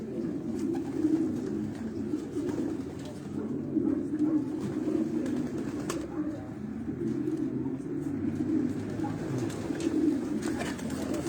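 Racing pigeons coo softly and repeatedly, a low throaty murmuring that carries on steadily close by, with faint rustling around them.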